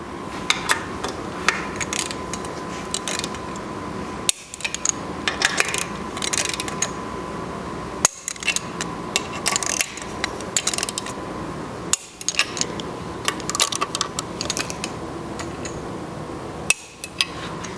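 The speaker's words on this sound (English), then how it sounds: "I'm going to torque these to 25 Newton meters" A torque wrench tightens nuts with flat washers onto studs on a Porsche 902 transmission under rebuild, set to 25 newton meters. Steady mechanical clicking and rattling is broken by sharp louder clicks about every four seconds, close and alone.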